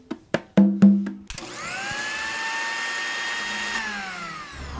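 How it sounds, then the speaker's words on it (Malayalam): A few sharp knocks and a rising motor hum, then a kitchen mixer grinder whirs steadily and loudly with a high whine, running on without pause. "എന്തോ അടുക്കളയിൽ മിക്സി ഓണായി"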